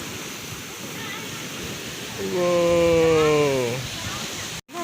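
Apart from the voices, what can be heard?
ocean waves at a beach resort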